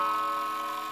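A 1936 Seth Thomas 8-day mantel clock ticking steadily as its hands are moved, with a sustained ringing tone running underneath the brief, close ticks.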